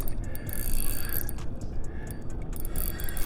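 Fishing reel grinding as a shark is reeled in, a steady mechanical ratcheting whir running continuously at close range with broadband hiss above it and no talk.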